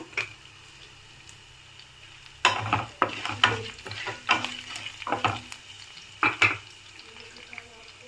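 Green chillies, grated ginger, curry leaves and dry red chillies fry in hot oil for tomato bath, a steady sizzle broken by several loud bursts of stirring and spatula scrapes that come in clusters.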